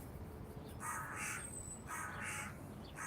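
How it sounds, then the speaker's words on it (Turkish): A crow caws from a tree in a green garden, with four or five harsh, evenly spaced calls at moderate distance over soft outdoor ambience, and no one talking. "Karga da var tabii ki,"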